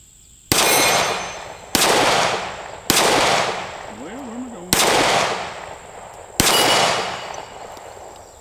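Five sharp, loud pistol shots from a Keltec P15 at a range, spaced roughly a second or more apart, each followed by a brief ringing decay.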